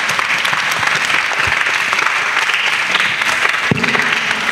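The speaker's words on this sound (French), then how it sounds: "Acclamez d'abord très fort." A group of children applauds loudly and steadily at a church gathering with a pastor, a dense continuous clatter of clapping with no voices over it.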